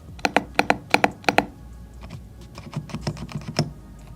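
Typing on an Epomaker RT100 Pro full-size retro keyboard with creamy jade switches: a few crisp, loud, evenly spaced keystrokes up close, then a quicker, softer run of clacks.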